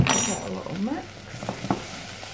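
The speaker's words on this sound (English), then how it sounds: "give that a little mix" Basil, oregano, pepper and salt being stirred into a tuna pasta bake mixture in a pan; soft scraping strokes with light sizzle, a few quick spoon clicks, close and brief.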